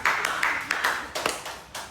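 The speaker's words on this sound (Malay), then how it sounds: "Berikan tepukan guys" A class of students gives a short round of applause in a classroom: scattered, uneven claps with a few sharper accents, moderately close and without talking.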